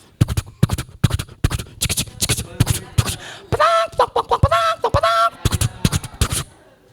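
A voice imitates a horse galloping with rapid tongue clicks, breaks into a few loud squawking chicken cries as the horse runs over a chicken, then returns to the clicking rhythm.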